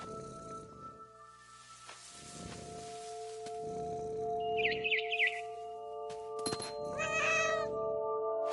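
A cat meowing in the video game What Remains of Edith Finch, four or five drawn-out meows spaced about a second apart, with bird chirps and faint tonal game music in the background.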